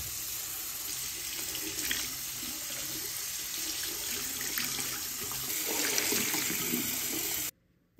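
Tap water pours steadily into a sink while a mud-soaked sock is washed, giving a constant close splashing rush that stops abruptly near the end.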